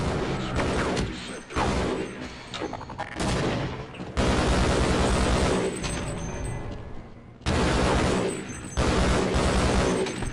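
Shotgun blasts and gunfire from the video game Half-Life, loud repeated bursts of in-game combat with mechanical clatter, coming in several dense stretches separated by brief lulls.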